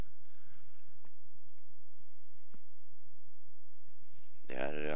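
Trotters' hooves beat in a quick, steady clip-clop rhythm during a Swedish harness race, a low repeated patter that ends as a loud voice cuts in at the close.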